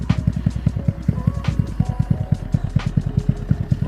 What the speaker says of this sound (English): Yeah, absolutely lovely running bike.